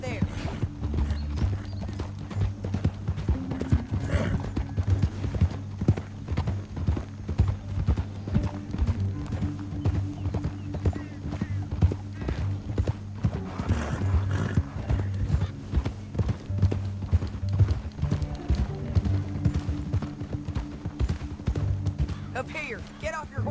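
Rapid, continuous clip-clop of galloping horses in the video game Red Dead Redemption 2, drumming hooves at a steady pace with a low droning hum underneath and occasional voices.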